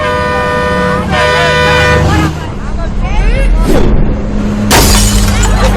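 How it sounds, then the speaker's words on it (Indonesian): A stone-struck bus window shatters with a sudden bright crash near the end, after loud honking horns and engine rumble, with voices talking over the commotion. "Karena kaca bisnya pecah, bis itu kemudian berhenti"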